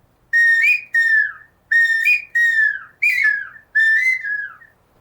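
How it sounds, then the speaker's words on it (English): Six clear, high-pitched bird-call whistles, each a short falling note, sounded in a steady sequence with brief pauses between them, close and loud. "The boys would learn to make little bird whistles."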